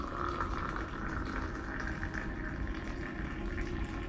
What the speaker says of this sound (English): Now we got that hot water poured right over it.